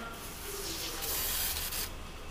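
Foaming cleaner similar to oven cleaner sprayed onto a ceramic tile toilet during installation, giving a steady close hissing spray that swells and then eases, with no voices.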